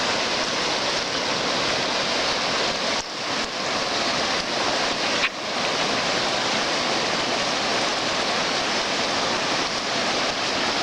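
A flooded river, the New River, rushes by with a loud, steady, broadband roar, nearby and unbroken apart from a couple of brief dips.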